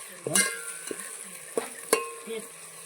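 Ginger garlic paste stirred into a hot chilli and turmeric tempering for a chicken curry, with soft sizzling under several sharp scrapes and clinks of a spoon against the pan, close by.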